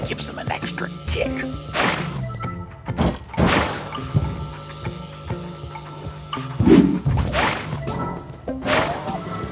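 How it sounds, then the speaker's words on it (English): Glass breaks in the puzzle video game Quantum Conundrum with several loud smashing and thudding crashes spread across the stretch, close and sharp, mixed with clattering impacts and some talk. "Unfortunately, the breaking of this glass is a necessary evil."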